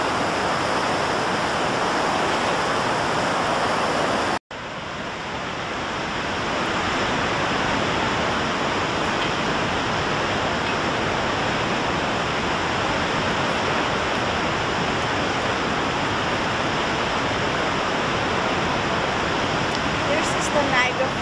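Niagara Falls roars from the US side, a dense, steady wall of rushing water that holds constant throughout, with one brief cut partway through.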